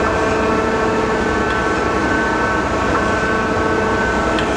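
A Chevalier 12 by 24 inch precision surface grinder runs with a constant dense mechanical drone, feeding down and sparking out in an even, unbroken hum.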